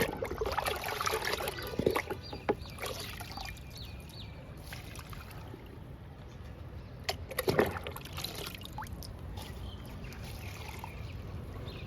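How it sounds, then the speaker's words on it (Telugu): Liquid fertilizer poured over small fruiting plants in a home garden: a soft outdoor trickle and splash against a steady background hiss, with a few brief louder spills. "డబ్బాలో కూడా పోస్తున్నా."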